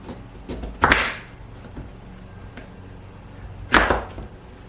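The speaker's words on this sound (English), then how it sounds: "And I'll do the same thing with the parsnips. I'm going to cut it in half" A kitchen knife slices through parsnips for oven-roasted root vegetables, giving two sharp, close cuts a few seconds apart, each a quick crisp chop on the board with quiet room tone between.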